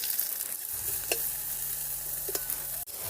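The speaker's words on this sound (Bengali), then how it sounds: "পেঁয়াজটাকে কিন্তু আমি বেশ ভালো করে লাল লাল করে ভেজে নেব।" Chopped onion sizzles in hot mustard oil with a soft, steady hiss, a low rumble underneath and a few light utensil clinks as it is stirred.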